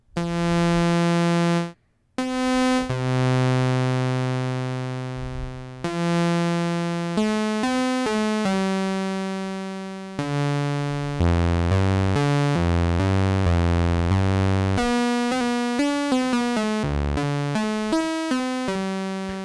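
A Yamaha CS-15 analog synthesizer plays a sequence of sustained, harmonically rich notes with a short added attack transient at each onset, loud and alone, with pitch changes and brief gaps between phrases.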